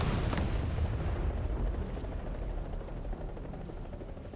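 In a video game, a helicopter's rockets fire with a dense, rumbling barrage of booms and blasts. The noise stays loud and steady and then fades slightly, with no talk over it.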